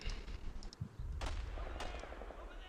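Gunfire and artillery from a video game battle, where three Badgers fire a dragon and draw heavy fire: a dense run of booms and sharp shots close together, with repeated cracks over a rumbling low roar.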